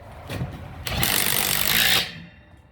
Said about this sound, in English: All you want to do is just listen to the impact as it changes the sounds on you.